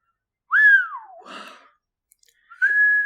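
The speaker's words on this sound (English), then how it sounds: "Ron let out a long, low whistle" A long whistle that rises then slides downward, followed by a breathy rustle, a pause, and a second sustained whistle held at steady pitch.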